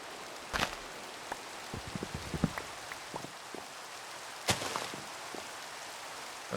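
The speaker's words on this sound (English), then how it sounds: "Sweet rain." Rain falls in a video game as a faint, steady hiss of drops, scattered with soft taps and a couple of sharper splashes.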